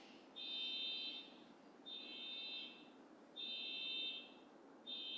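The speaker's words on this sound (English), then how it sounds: "If we focus in on the sound of the car alarm, disruption" A car alarm sounds outside, faint and distant, repeating a steady electronic tone in even pulses of about a second with short gaps between them.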